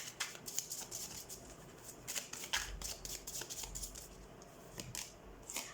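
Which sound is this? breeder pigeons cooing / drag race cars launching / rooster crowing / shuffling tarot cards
shuffling tarot cards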